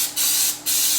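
Cooking oil spray sprayed onto meatballs: two close hissing bursts, each about a third of a second long.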